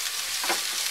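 Onions sautéing in hot oil in a pan make a brief, close, steady sizzle.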